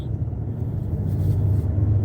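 A car drives along steadily, its low engine and road rumble continuous and close, heard from inside the vehicle with no talking.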